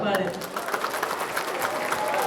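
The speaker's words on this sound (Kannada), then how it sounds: "ಒಂದು ಜೋರ್ ಚಪ್ಪಾಳೆ" An audience claps in a dense, steady patter of applause, moderately loud and sustained throughout.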